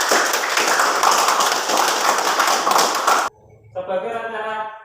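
Classroom students clapping together in a burst of steady applause that stops abruptly, followed by a short spoken voice in the quiet room.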